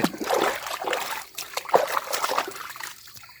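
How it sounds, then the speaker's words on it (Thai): Water is poured over a stray dog during a bath, trickling and splashing in uneven bursts close by. Short pauses break up the pours. "เดี๋ยวเทน้ำราดก็ได้แล้วนี่ เทน้ำทักครั้งของครั้งก็ได้แล้วได้สะอาดแล้ว"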